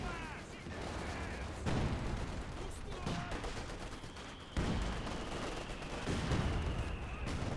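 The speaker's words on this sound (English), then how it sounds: "Grenadiers opening fire on the guard forces" Gunfire in the Company of Heroes 2 video game, a dense, continuous rattle of small-arms and heavier shots on the Highway to Baku map, with a low rumble and someone talking over it throughout.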